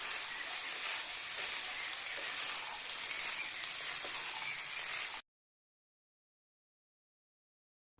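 Boiled potatoes and peas fry with salt and turmeric for ghugni, giving a steady, even hiss of sizzling close by for about five seconds before stopping abruptly into silence.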